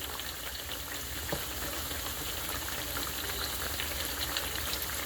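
Pieces of tofu fry in a pan with a steady, close sizzle and crackle, broken by a few faint taps and scrapes as a spatula flips them; no voices.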